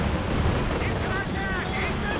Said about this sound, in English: Comes the Katyusha.